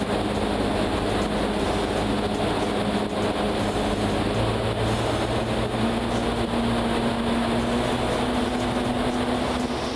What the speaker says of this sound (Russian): И вот мы выходим к аэротрубе.